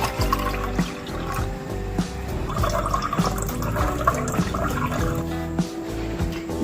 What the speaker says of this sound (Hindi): सबसे पहले हम पानी ऐड करेंगे